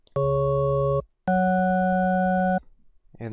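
A Sytrus synthesizer bass patch in FL Studio, built from low oscillator harmonics, plays two sustained buzzing tones of about a second and a second and a half, with a short gap between them and no voices.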